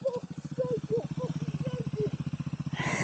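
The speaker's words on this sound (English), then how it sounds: "hey, there's a bike coming" A motorcycle passes on a country road, a steady pulsing mid-pitched engine drone throughout with a person talking over it, then a brief louder whoosh near the end as it goes by.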